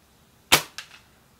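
A single sharp, snappy shot from a UTG L96 spring-powered airsoft sniper rifle cracks out, followed a moment later by a fainter distant impact in a tree.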